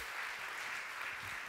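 Clapping from a church congregation during a bilingual Sunday sermon, a soft, continuous patter of many hands at a moderate, even level with no voices over it.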